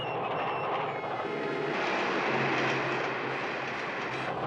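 An out-of-control cartoon subway train, number 7, roars along the tracks in a continuous loud rumble with rattling clatter, steady throughout with no talk.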